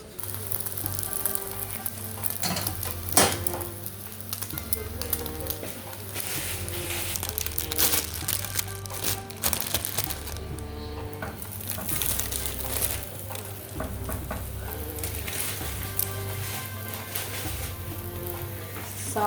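An egg fries on a flat griddle at a street burger stall, a continuous crackling sizzle with scraping and clattering over a steady low hum.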